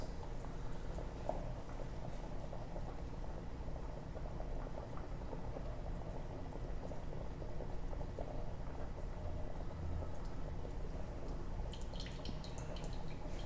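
Liquid pours and drips through cheesecloth laid over a strainer, a steady close trickle with scattered drips running continuously without speech.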